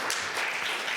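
Church congregation clapping together during a Sunday worship service, a brief, dense wash of applause from many hands filling the room at an even level.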